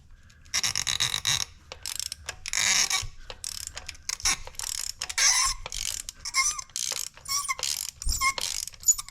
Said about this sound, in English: Why is my wrench doing that? I think I need to grease the wrench, huh?